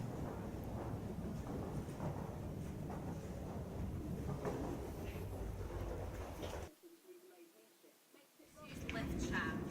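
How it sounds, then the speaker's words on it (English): A deep, heavy rumble of a London Underground Northern Line train echoes through a tunnel near Euston station, briefly dropping to near quiet before swelling again. "Here is a Northern Line train passing the tunnel."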